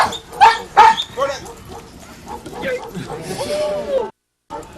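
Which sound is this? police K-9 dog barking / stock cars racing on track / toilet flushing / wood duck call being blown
police K-9 dog barking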